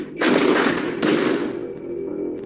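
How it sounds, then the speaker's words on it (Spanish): Two sharp, loud gunshots in quick succession, each with a rolling echo that fades slowly. "Más de 15 tiros con armas de fuego."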